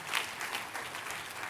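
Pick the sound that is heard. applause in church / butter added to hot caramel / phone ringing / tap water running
applause in church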